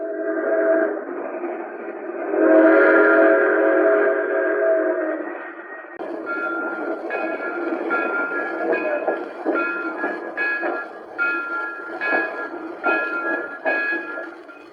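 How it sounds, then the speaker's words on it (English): A 1955 Lionel model train runs along the rails, a steady close rumble with rhythmic clicking and metallic squeals from the wheels, growing busier and more clattery partway through. "Look at her streak along the rails. It's a Lionel."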